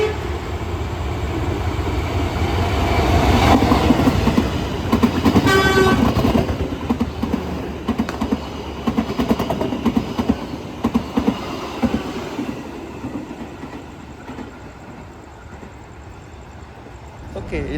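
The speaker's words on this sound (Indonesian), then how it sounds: "Persiapan melintas kereta api Serayu pagi." Serayu passenger train passing on a single track in Indonesia, a loud, steady rumble with rail clatter and a horn toot partway through that fades toward the end, heard close from a train, with some voices mixed in.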